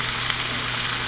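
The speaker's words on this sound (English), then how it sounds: "you can really hear it sizzling." Steady crackling sizzle of broccoli rabe, sweet corn and spices frying in a pan, close and continuous, with a low hum underneath.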